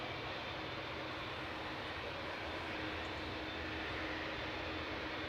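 A seven-year-old TUI Boeing 787-9 at Manchester Airport gives off a faint, distant, steady jet engine roar, an even broadband rumble with no breaks.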